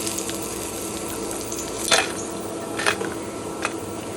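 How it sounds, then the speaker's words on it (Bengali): Lentil dumplings (bori) fry in mustard oil in a pan, a steady close sizzle punctuated by a few brief scraping and stirring clatters, with no talking. "সর্ষের তেল দিয়ে দেবো প্রথমে শুকনো লঙ্কা কটা ভেজে তুলে নেবো এবার বড়িগুলো ভেজে নেব"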